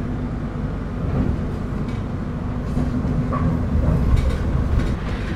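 Inside the KA Parahyangan passenger train while riding, a steady low rumble of wheels and carriage with soft clatter and occasional faint knocks, continuous and fairly even throughout.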